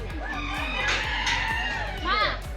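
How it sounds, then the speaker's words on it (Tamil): Chickens at a bird park give a few squawks and clucks, with a rising crow-like call near the end, over a constant low mechanical hum. "இது நம்மளோட நார்மல் கோழி மாதிரி தான்."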